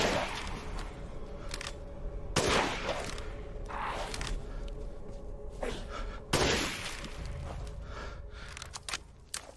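Gunshots from a sniper rifle in Resident Evil Village, plus a pipe bomb blast, come as a few sharp, loud cracks spaced seconds apart over a low game background.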